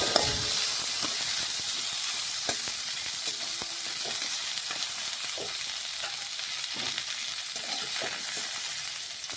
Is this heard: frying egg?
yes